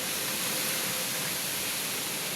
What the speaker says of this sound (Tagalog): Mahangin pa naman.